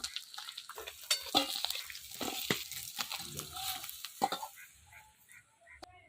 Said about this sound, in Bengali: এবার বাকিগুলো ভেজে নেব